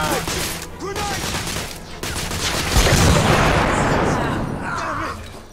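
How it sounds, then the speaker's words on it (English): A grenade explodes with a deep, broad boom amid rapid gunfire in the Victorian-era shooter The Order: 1886. Voices speak over the loud, dense combat noise. "Grenade."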